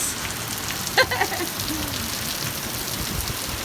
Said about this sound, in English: that rain is just coming down heavier and heavier